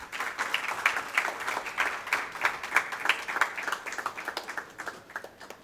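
Audience applause at a business session of a regional industry conference in Nagpur, with steady, moderately loud clapping from a room of attendees and no talk over it.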